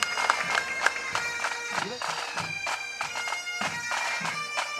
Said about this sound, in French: c'est les acclamations pour Sander Oudsander.